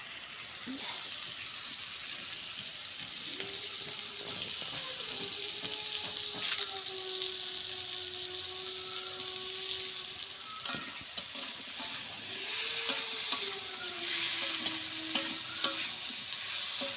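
Figs and onion fry in a pan with a steady close sizzle and occasional stirring scrapes, while a faint tonal hum runs underneath.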